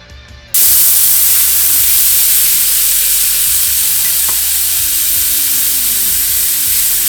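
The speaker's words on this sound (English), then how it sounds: "So start adding the vegetables in first. Let those start" Vegetables hit a hot pan for a mango duck stir fry, bursting into loud, steady sizzling that starts abruptly and keeps up a dense hiss with faint clatters underneath, no talking.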